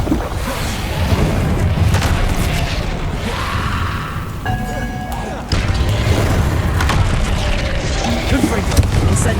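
Confringo blasting-spell explosions from the video game Hogwarts Legacy, a steady stream of booming bursts and crashes over dense rumbling game noise, with a brief tonal effect midway.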